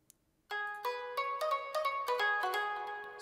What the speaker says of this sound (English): It's just a sampled shamisen with a little EQ on it.